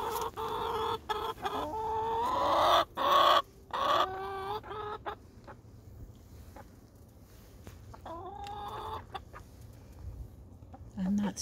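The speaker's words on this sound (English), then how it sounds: "And here's my chicken." Chickens in a backyard greenhouse cluck and squawk close by in bursts, with occasional quieter stretches between them.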